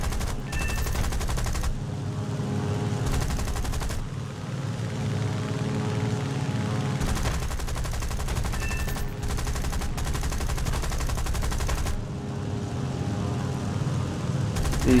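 Aircraft machine guns with default ammo belts fire in War Thunder, loud rattling bursts of a few seconds each, broken by short gaps, over constant engine drone.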